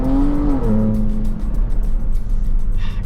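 Turbocharged V6 of a 2022 Ford Bronco Raptor off-road truck revving loudly up close, a deep steady drone that climbs in pitch, drops back and holds, with no talk over it.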